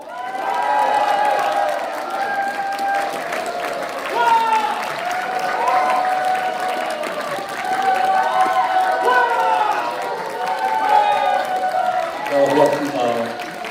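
Audience at a Korean book concert for a novel's author applauds and cheers steadily throughout, with a dense crowd roar and overlapping voices shouting over the clapping.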